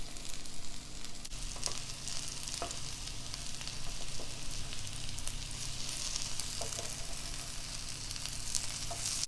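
Slices of bitter gourd fry in a pan with a steady, close sizzle throughout, with occasional light stirring clicks and no talk.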